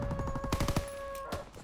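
Rapid gunfire from a shooter video game, a burst of closely spaced shots over the first second that ends in a miss, followed by one more sharp report, loud and close.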